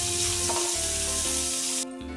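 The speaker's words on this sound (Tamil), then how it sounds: "இதை நல்லா வதக்கி எடுத்துக்கலாங்க." Chopped onion and tomato sauté in an oil-filled pan, giving a steady close sizzle and frying hiss that drops away sharply near the end.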